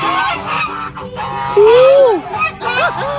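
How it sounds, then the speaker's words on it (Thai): A lion-head goose gives a loud, drawn-out honk up close, followed by a shorter call, with people talking in the background. "ห่านหัวสิงโต นี่มาดูดิ"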